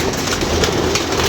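Caught pigeons coo in a soft, throaty burble, close by, with a steady background hum and no speech.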